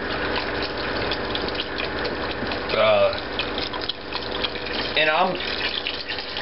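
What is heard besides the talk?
liquid being poured into a pot for turtle soup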